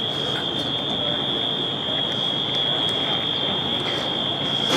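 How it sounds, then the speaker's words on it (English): A fire alarm sounds at Hamilton train station in New Jersey, a piercing steady high-pitched tone held continuously, with faint station noise and brief voices underneath. "Fire alarms are, of course, still going off."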